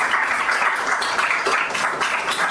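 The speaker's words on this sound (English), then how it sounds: "I would like a round of applause for our judges who spent an hour reviewing" Audience applause for competition judges at a demo day event in Belgrade, a dense, steady wash of clapping that holds at even loudness for the whole moment.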